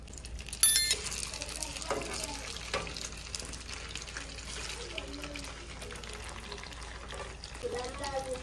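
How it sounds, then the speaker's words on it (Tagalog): Mortadella sizzling in a frying pan for a Filipino breakfast, a quiet crackling fry with scattered spits and clinks of utensils, while a person talks over it. "Yan, iprito po natin yung mortadela"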